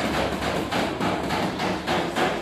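Small hammer tapping a car body panel in paintless dent repair on a Chevrolet Meriva, a steady series of quick light taps in regular bursts, fairly close and alone.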